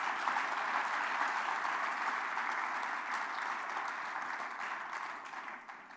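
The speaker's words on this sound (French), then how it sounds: "on peut applaudir les auditeurs Radio Espérance" Sustained applause from a live audience during a French Marian conference broadcast on Christian radio, a dense even wash of many hands clapping together that holds steady and then slowly thins toward the end.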